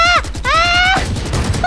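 Rapid gunfire bursts in the video game Eternal Return crackle loudly and close in quick succession, with a whining, bending tonal sound over the shots.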